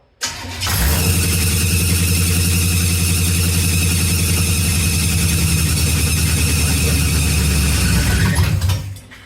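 A 1951 GMC 100 truck engine cranks and catches, running with a loud, steady mid-pitched rumble for several seconds before abruptly dying out, heard close up with no talking.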